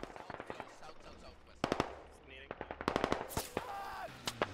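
Close, loud automatic gunfire from the tactical shooter Squad during a one-life match, with rapid bursts and sharp single shots crackling over a low rumble, and a voice faintly underneath.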